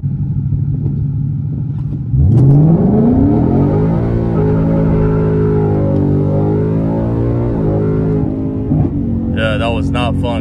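A tuned Ford Mustang GT launches hard, its engine roar swooping up sharply as the tires spin, then holding a loud, wavering high-rpm drone before backing off, with a brief squeal near the end.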